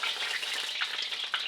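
An egg fries crispy in hot oil, Asian style, for a classic nyonya egg belanda, giving a steady close sizzle with small crackling pops throughout.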